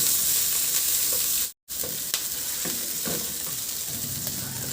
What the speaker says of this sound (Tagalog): Igisa ko na rin yung sibuyas.